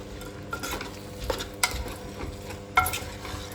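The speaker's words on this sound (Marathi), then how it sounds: "आता हे मिक्स करून घेऊया।" A spoon stirs broccoli, mushroom and corn pulav in a pan, with a steady run of scraping and clinking strokes and a few sharper knocks against the metal, fairly close and with no talking.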